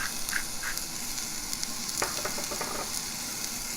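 Seasoned vegetables, including onion, sizzle in a frying pan as it is shaken, a steady close frying hiss with scraping and rattling movements partway through.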